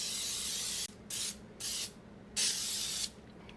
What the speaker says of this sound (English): I'm going to take my Baker's Joy and we're just going to spray the pan